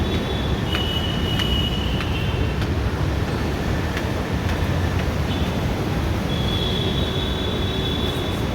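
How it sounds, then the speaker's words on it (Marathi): A metro train runs with a loud, steady rolling rumble inside the carriage, and thin wheel squeals rise and fade over it. No one speaks. "इथं आलो होता मी मेट्रो स्टेशनला."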